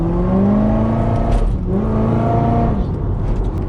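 A Corvette accelerates hard out of a corner, its engine note climbing through gears in a loud, close rising drone, with no talk.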